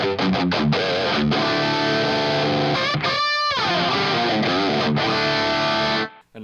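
Electric guitar boosted by a Boss SD1 overdrive into an Orange Rockerverb amp, playing distorted sustained chords and riffs, loud and close, before stopping abruptly at the end.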